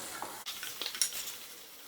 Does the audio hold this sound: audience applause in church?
no